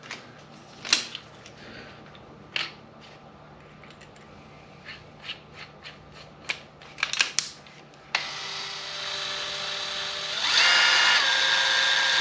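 A power drill spins a bent RC car shock shaft from an Arrma Outcast 4S, a steady whir starting partway through and rising in pitch near the end, after a stretch of quiet handling clicks.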